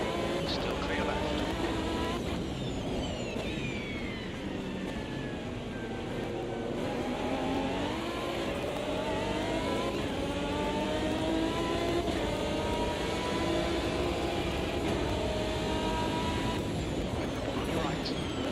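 Race car engine in Automobilista 2 roaring at speed, its pitch sweeping up and down through gear changes with a hollow echo as it passes under a bridge, loud and continuous throughout.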